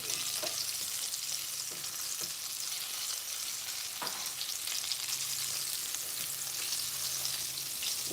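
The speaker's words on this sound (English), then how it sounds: "So I have some dumpling for fry. I'm gonna have no more oil." Dumplings frying in a small amount of oil, a constant close hiss and crackle of sizzling with occasional sharper pops and no talking.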